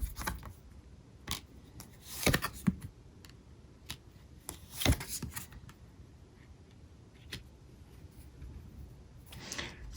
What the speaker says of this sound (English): I'm going to pull 3 cards for you.